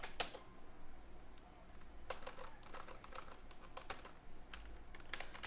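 Rapid typing on a computer keyboard, with close, crisp key clicks in an irregular stream over a soft low hum, while an email is composed. No voices are heard.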